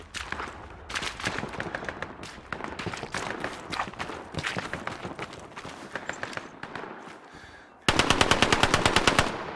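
In the Hell Let Loose battlefield game, close machine-gun bursts rattle in rapid clusters, with footsteps moving between them and a loud sustained burst near the end.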